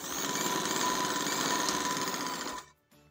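A sewing machine stitches elastic on capri pants in one steady, loud, close run of whirring that stops abruptly near the end, followed by a brief faint clatter, with no talking.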